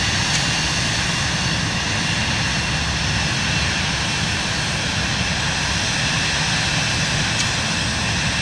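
Steady, unbroken drone of an aircraft engine in flight through an Alpine valley near Geneva and Innsbruck in Microsoft Flight Simulator 2024, loud and even throughout with no talk.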